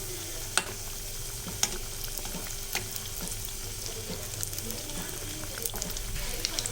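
Kandarappam, sweet fritters, frying in hot oil, giving a steady close sizzle and crackle with a few sharp pops and small clinks from a utensil.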